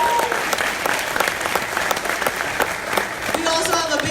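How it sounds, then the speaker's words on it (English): Audience applause at a boxing press conference for Manny Pacquiao vs Lucas Matthysse, a dense, steady burst of many hands clapping throughout, fairly loud, with a voice briefly heard over it near the end. "Ladies and gentlemen, may we have a round of applause, please."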